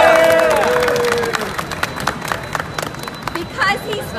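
Audience applause at a community gathering in the United States, a dense wash of clapping and crowd noise that starts loud and gradually thins out over about four seconds.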